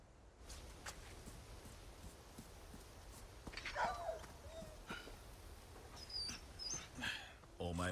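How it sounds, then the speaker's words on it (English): A dog whimpers and whines in a Resident Evil 4 Remake scene, with soft high cries in short bursts mixed among game sounds and people talking. "Oh, poor doggy."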